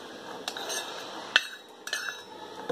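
A spoon stirs soaked dried fruits and tutti frutti in a bowl for an eggless Christmas atta cake, giving a few light clinks and scrapes against the dish.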